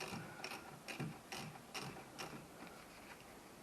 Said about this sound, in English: So I'm going to take these bolts out.